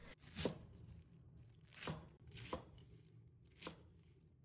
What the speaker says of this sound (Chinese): 再准备一把洗干净的韭菜，把韭菜头先切掉不要，再切成小段